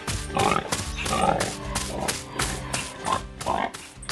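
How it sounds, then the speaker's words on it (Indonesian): Cartoon pink pigs oink and grunt around a red and white barn with yellow hay, a quick run of loud, close, rhythmic snorts repeating several times per second over a short, bright musical backing. "Babi-babi berwarna pink sedang bermain di sekitar gudang merah putih dengan tumpukan hai kuning"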